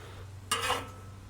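A metal spatula scrapes once under grilled cheese sandwiches on a Blackstone flat-top griddle, a single short scrape over a steady low burner hum, close and clear with no talk.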